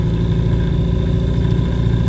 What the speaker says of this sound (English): at least the engine's still on